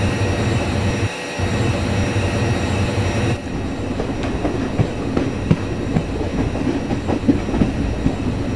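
An Indore–Pune Express hauled by a WAP5 electric locomotive rolls along in a train simulator game, a loud continuous rumble with rhythmic clickety-clack from the wheels on the rails and a low steady hum throughout.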